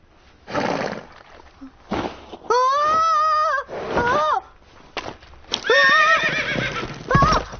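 Horse in an animated film whinnying loudly twice, long wavering neighs, with a snort and the clip-clop of hooves between them.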